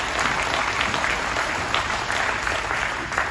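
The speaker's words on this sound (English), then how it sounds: "Please give them a round of applause." An audience at a water summit panel gives a round of applause, a dense, steady wash of many hands clapping at moderate distance, with no speech over it.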